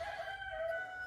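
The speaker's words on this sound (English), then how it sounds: "Oh my God, that rooster." A rooster crows once in a short, clear, nasal call, moderately near and alone, over a faint low rumble.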